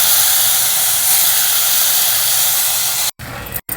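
Soaked moong dal fries in ghee with crushed garlic, a loud steady sizzling hiss that runs on evenly before breaking off into a couple of short gaps near the end.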